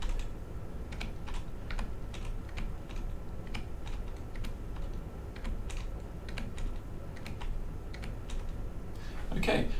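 Typing on a computer keyboard while entering input into a program, with steady clicking keystrokes close up running throughout, briefly louder near the end.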